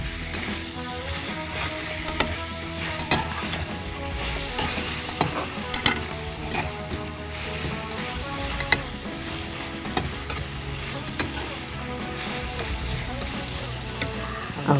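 Onions fry in a nonstick pan for a vegetable kara kuzhambu, sizzling steadily throughout while a spoon stirs with frequent sharp clicks and scrapes, close and fairly loud.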